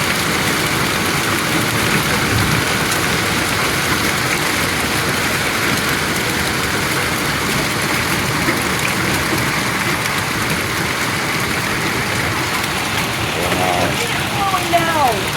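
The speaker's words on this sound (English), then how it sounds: "That hail can blast a hole through a window," Hail and heavy rain pouring down during a summer hailstorm in Cardston, Alberta, Canada, a dense continuous patter and hiss with scattered harder impacts, steady and close; voices talk over it.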